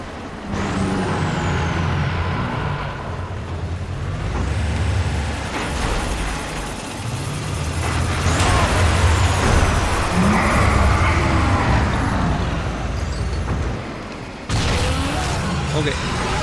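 Vehicles rush past in the video game Alan Wake, with whooshing engine noise, hissing air brake sounds and thumping impacts that run steadily throughout, under faint speech.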